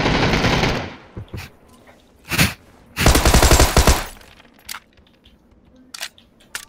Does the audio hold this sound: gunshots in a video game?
yes